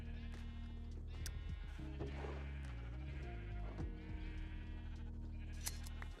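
Sheep in the video game Minecraft bleat in a few wavering cries layered over one another, quiet and close, against a steady background hum.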